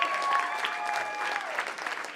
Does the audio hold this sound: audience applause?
yes